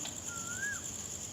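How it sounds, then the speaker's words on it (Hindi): An Asian koel calls once at night, a single rising whistled note held for about half a second against a steady background hiss and insect-like drone, fairly faint and alone. "कोयल की आवाज़ भी आ रही है"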